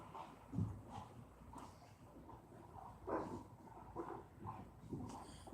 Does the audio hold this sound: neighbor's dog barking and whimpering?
yes